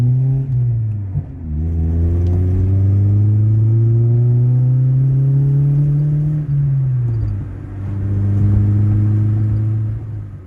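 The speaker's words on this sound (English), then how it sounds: "Motor feels good. I know, it sounds good." A Honda G23 VTEC car engine revs up and holds a high whine, then drops back and settles into a steady loud rumble, close by with no talking.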